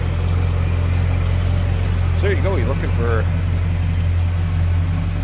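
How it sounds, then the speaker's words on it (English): A 1977 Ford Thunderbird hardtop engine idling smoothly, a steady low hum that runs throughout while someone talks briefly over it. "Nice, smooth running engine."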